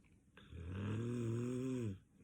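One long, drawn-out snore from a sleeping person, close and steady, lasting over a second with a rough nasal rasp, alone without talk.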